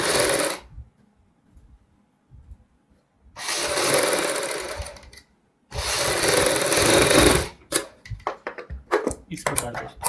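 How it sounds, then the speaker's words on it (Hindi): Sewing machine stitching a baby frock with net and inner layers, two loud steady runs of a couple of seconds each, close by, separated by pauses, followed by light handling clicks. "यहाँ पे हम एक एक पैर की सिलाई लगाएंगे।"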